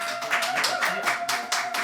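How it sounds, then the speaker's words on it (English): Audience applause at an evening event, a close, steady patter of many hands with a faint tone lingering underneath. "Another round of applause for Mackenzie."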